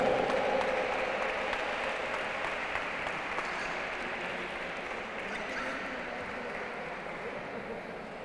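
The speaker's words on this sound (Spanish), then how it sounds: "Fuerte el aplauso para Fernando." Sustained audience applause at a cross-country duathlon award ceremony in Bollullos, an even, continuous wash of clapping that slowly eases in level, with no voices over it.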